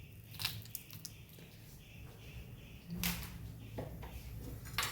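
Ingredients for Kerala-style chammandhi podi are stirred in a pan, giving faint scraping and rustling with a few sharper clinks of the spoon against the metal.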